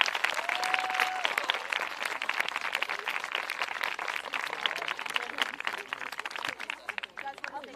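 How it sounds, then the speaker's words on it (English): Sustained applause from a high school pops concert audience, a dense steady wash of clapping throughout with crowd noise mixed in. "let's give him all a round of applause"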